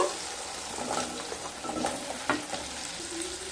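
Potatoes and spices sautéing in a pan on low heat, a soft continuous sizzle with occasional scraping stirs, close and moderately quiet, with no voices.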